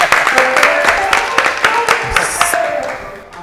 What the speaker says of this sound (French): j'aimerais qu'on applaudisse très fort pour Segra Karl.